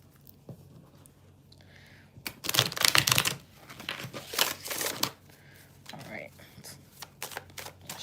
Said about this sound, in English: Can I shuffle this deck, please?